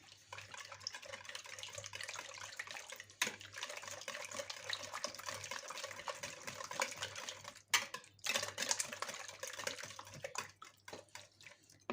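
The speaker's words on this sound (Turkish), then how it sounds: "Ve güzelce şimdi karıştıralım" A utensil stirring cheese cake batter with a glass of room-temperature milk in a bowl, a continuous wet swishing with light clinks against the bowl and a brief break near the end, no talking.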